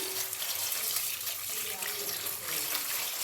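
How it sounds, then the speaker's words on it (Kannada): Cold tap water runs over freshly cooked, drained pasta in a home kitchen, a steady close hissing gush that continues without a break for the whole stretch. "ಒಂದು ಸ್ವಲ್ಪ ನೀರು ಬಿಟ್ಕೊಂಡ್ಬಿಡೋಣ ತಣ್ಣೀರು ಆಗ ಅಂಟಾಗೋದಿಲ್ಲ ಪಾಸ್ತಾ"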